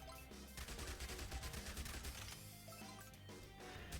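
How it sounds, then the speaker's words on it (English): Rapid SMG gunfire from the zombie shooter Zombie Survivors, a dense stream of quick shots layered over busy game music and effects, steady and loud throughout with no talking. "Yeah, we are firing a lot faster with this. And then we get an SMG."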